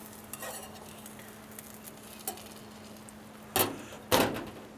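A Spanish omelette cooking slowly in a pan on low heat: faint, soft sizzling under a low hum, with a few light scrapes and two louder utensil scrapes near the end, close and with no speech.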